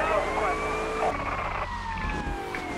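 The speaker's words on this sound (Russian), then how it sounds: "Сирену включи еще, чтобы веселее было" A police car siren wails in the video game GTA Vice City, a loud rising and falling electronic tone with a switch in pattern partway through, over engine rumble.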